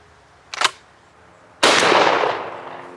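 Single loud shotgun blast fired through a modified choke with number 6 steel shot, a sharp report followed by a long decaying boom outdoors, preceded by a brief mechanical click.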